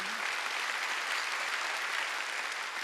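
A congregation claps during a church Sunday service, steady dense applause from many hands filling the room evenly for a few seconds, with no talk over it.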